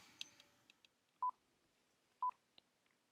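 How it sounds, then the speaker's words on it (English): Mobile phone keypad tones sound in a quiet room after a yoga class: two clear, loud beeps about a second apart, with a few faint clicks and taps between them. "Princess, sorry about my phone. I totally didn't know how to turn it off."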